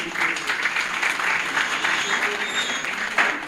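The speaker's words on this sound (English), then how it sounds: "Shall we give him a big round of applause, please?" An audience at a tribute ceremony for Namibia's Sam Nujoma applauds, with dense, sustained clapping throughout.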